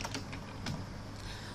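Quick, light keystrokes on a computer keyboard, a short run of soft clicks at a steady pace, close and quiet with no voices.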